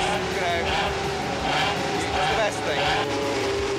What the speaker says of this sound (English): Hear that engine revving away here